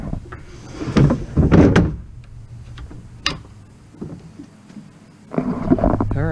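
A homemade wooden drawer in a Tacoma truck bed slides open and shut with a latch, giving a few sharp clunks and scraping rolls, then a final louder slide and thump near the end.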